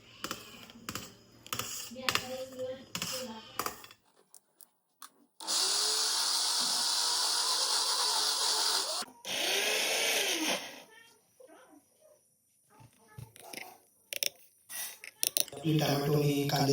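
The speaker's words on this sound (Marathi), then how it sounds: "आता झाले आणि मिक्सरला लावून घेतो" A kitchen mixer grinder runs in two loud bursts of whirring as it blends boiled pav bhaji vegetables, with someone talking and utensil clatter before and after.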